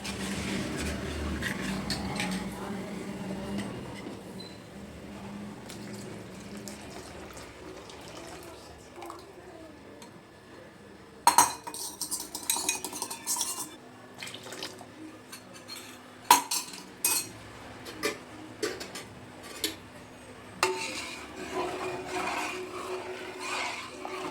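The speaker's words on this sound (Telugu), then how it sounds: "ఇందులో నేను ఇది కలుపుకున్న రాగి పిండి ఉంది కదండి, ఇది పోసేసుకుంటాను." Mixed ragi flour batter poured into a simmering pot and stirred, first a soft flowing pour, then a run of sharp metallic spoon clinks against the pot, close up with no talk.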